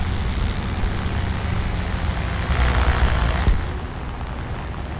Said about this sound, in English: We haven't burned out our engine, and this plane went over 300 miles per hour